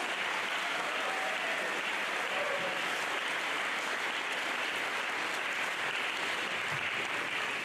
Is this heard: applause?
yes